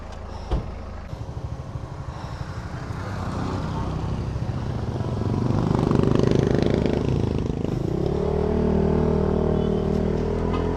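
A motorcycle engine runs steadily on slippery ground, its rumble swelling midway and then holding at a loud, even drone.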